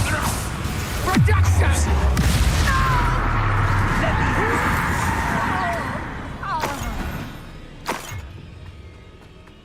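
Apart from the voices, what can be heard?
Confringo blasting spell cast and exploding in a Harry Potter video game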